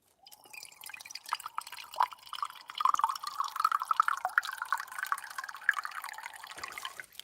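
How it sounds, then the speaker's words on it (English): Purified water from a Berkey gravity filter trickles steadily into a cup for several seconds, a close, thin pouring stream with faint dripping at the start and a short tail as it stops. "Let's put some pure water in it, you all."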